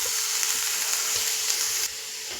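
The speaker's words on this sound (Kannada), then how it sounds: "ಕ್ಯಾರೆಟ್ನ ಹಾಕ್ಕೊಂಡು ನೀಟಾಗಿ ಇದು ಚೆನ್ನಾಗಿ ಫ್ರೈ ಆಗಬೇಕು" Grated carrot sizzles and fries in hot ghee, a steady bright crackling hiss close by with faint stirring, easing slightly softer near the end; no voices.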